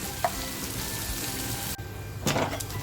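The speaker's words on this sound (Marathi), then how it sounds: "तर बघा आपली मच्छी सुद्धा फ्राय झालेली आहे" Surmai fish frying in a pan of hot oil, a continuous soft sizzle with a few brief crackles and a utensil scrape near the end, no voices.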